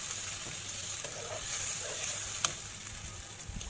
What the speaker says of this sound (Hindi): और चम्मच की मदद से इसे अच्छी तरह से चलाएंगे।